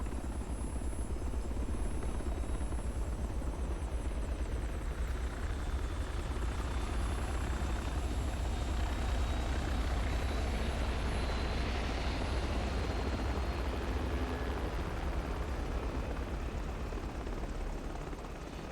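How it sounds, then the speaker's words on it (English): Helicopter in The Matrix: Path of Neo, a steady loud rotor drone and engine whine holding unbroken throughout without voices. "God, this helicopter is killing the frame rate."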